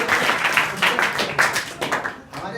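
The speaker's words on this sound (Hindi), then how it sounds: "ताली बजा दो" Students in a school classroom break into clapping, a brisk patter of many hands at moderate distance that continues steadily while someone speaks over it.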